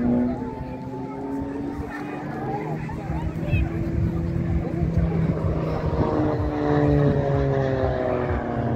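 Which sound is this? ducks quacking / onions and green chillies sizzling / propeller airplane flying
propeller airplane flying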